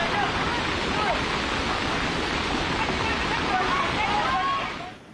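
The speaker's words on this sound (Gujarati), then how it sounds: "જ્યાં એક તરફથી અલકનંદા નદીનો પ્રવાહ ઘાટ ઉપર ટકરાઈ રહ્યો છે" The flooded Alaknanda river in Uttarakhand crashes against the ghat in a dense, continuous roar of rushing water. The roar is loud and steady and fades out at the very end.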